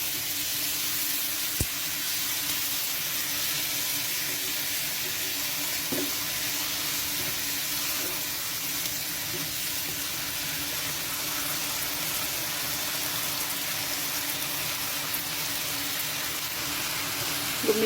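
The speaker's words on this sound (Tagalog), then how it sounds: "Ilagay ko na yung pusit." Squid cooking for adobo sizzles in a pan with a loud, steady hiss and spatter, punctuated by a few faint clinks from the pan.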